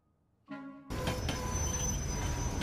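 Train noise from the animated film Inside Out: a brief tonal horn-like note, then a steady loud rumble of rolling carriages that holds to the end.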